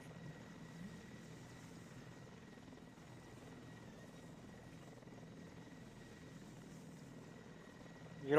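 A helicopter in the 7 Days to Die Ravenhearst mod flies with a steady, low, droning rotor and engine hum held at an even, moderate level throughout, ending with a brief louder burst.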